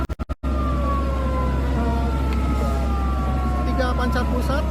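Fire engine sirens wail at a fire scene in Bandung where twelve fire units responded, starting after a few sharp clicks. The long gliding tones rise and fall over a steady low rumble, fairly close and loud.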